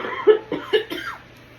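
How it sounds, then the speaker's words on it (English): Several short coughs from one person close to the microphone, a quick cluster of dry bursts over under two seconds, then quiet. "I have a coughing spell right now that I'm dealing with, where it's like I seem to be coughing a lot"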